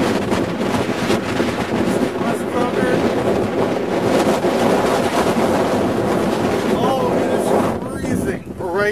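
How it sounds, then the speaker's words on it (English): Strong gusting wind roars and buffets the microphone continuously in freezing Arctic conditions, with voices talking faintly underneath. "Very windy right now."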